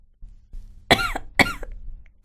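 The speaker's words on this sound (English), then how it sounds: "pardon me, I'm gonna cough." Two harsh coughs from one person, close and fairly loud, about half a second apart, with a quiet room hum beneath and a faint click at the end.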